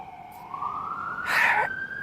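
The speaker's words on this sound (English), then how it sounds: "it's an ambulance" An ambulance siren wails past, its rising tone sweeping upward and growing louder as it nears, then a brief burst of broadband traffic noise, with no talk over it.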